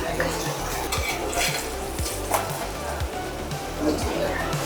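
Oil sizzles in a pan while kinche (cracked wheat) is fried, a utensil stirring and scraping with clinks, and a voice speaks faintly in the background.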